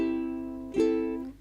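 A single sustained ukulele chord rings out, followed by a second down strum near the middle that lets the chord ring on, close and clear.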